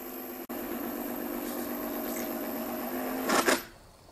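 A small electric RC boat motor under load from an oversized propeller whirs steadily with a rough cogging edge, then surges briefly and cuts out, leaving near silence.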